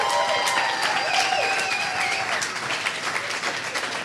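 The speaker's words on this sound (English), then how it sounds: "Big round of applause for your wait staff." A comedy club audience applauds the wait staff, sustained dense clapping mixed with whoops and cheers, loud and close throughout.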